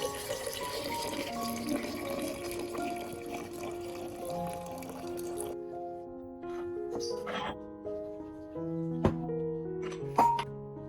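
About 500 milliliters of filtered water pours steadily into a container holding aloe vera for several seconds, then stops, followed by soft clinks and light handling sounds over background music.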